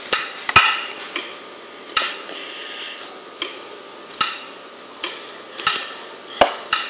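Wood blocks being chopped in Minecraft Pocket Edition online play: a steady series of short, dry knocking hits, some grouped in quick pairs, moderately loud with no talk.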